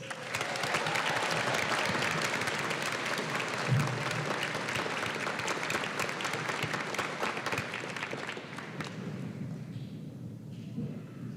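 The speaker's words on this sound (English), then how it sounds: "please give a round of applause to Cameron Hunt" A large audience at a high school graduation ceremony applauds in a dense, sustained roar of clapping that fades toward the end, with no talking over it.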